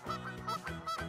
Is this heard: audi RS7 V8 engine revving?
no